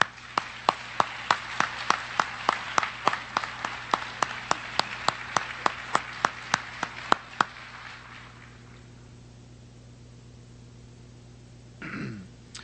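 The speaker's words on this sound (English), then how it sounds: "I'd like to give them all a round of applause." Slow, evenly spaced claps ring out in a quiet room at a National Honor Society induction ceremony, roughly two or three per second for about seven seconds before stopping, leaving a steady hum and a brief sound near the end.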